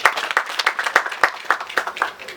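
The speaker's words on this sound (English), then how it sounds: "Let's clap for the UPDF Engineers Brigade." Scattered audience clapping at a Namboole stadium site event, made up of distinct, fairly close hand claps in an uneven rhythm from a modest group, with gaps between bursts.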